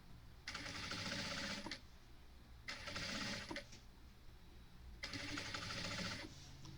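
Sewing machine stitching tricoline cotton fabric for a box bag: three whirring bursts of about a second each, separated by short pauses, close and steady, with no talking.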